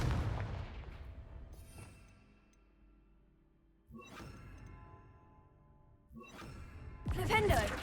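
Confringo blasting spells detonate in Hogwarts Legacy, a game set at Hogwarts: a deep boom at the start, then sharp blasts near the middle and end, each trailing a rumbling decay, with a crackling burst at the close.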